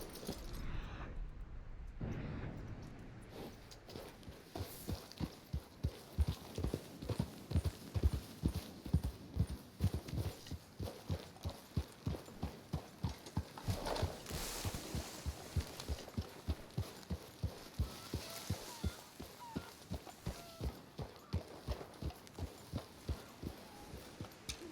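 Horse hooves walking in the Red Dead Redemption 2 video game, a steady rhythmic clip-clop of evenly spaced footfalls that carries on throughout, fairly loud and close over a low background hum.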